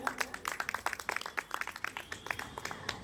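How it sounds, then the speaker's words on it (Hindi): An audience at the Gomti Ratna award ceremony during UP Mahotsav claps in a scattered burst of quick, uneven hand claps, fairly faint and continuous for a few seconds. "जोरदार तालियां।"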